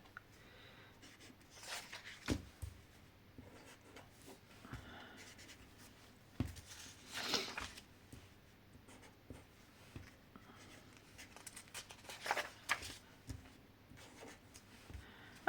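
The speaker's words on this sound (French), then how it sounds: "Et maintenant, donc, il ne reste plus qu'à écrire les jours." A pen writes the days by hand in a paper agenda, giving soft scratchy strokes in short irregular bursts with pauses, close and quiet in a calm room.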